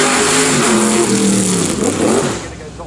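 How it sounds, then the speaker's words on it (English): Chevrolet V8-engined car accelerating hard at a Goodwood Festival of Speed hill shootout, a loud, close, continuous engine roar rising in pitch through the gears, with commentary talking over it. "lots of grunt from that Chevrolet V8 lump at the front"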